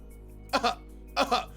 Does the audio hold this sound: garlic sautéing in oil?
no